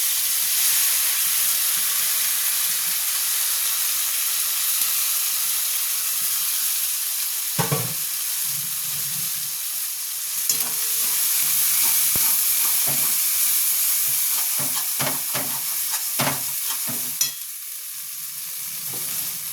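Ground green pea paste fries in a little oil in a wok, giving a steady broadband sizzle that runs throughout, broken by brief scraping stirs and clinks in the second half.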